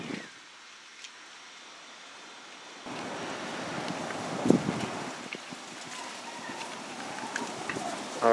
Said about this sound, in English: All right, you can feel the wind now.